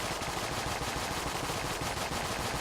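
AK-47 firing in the video game Enter the Gungeon, a sustained rapid automatic burst, dense and loud, with no talking over it.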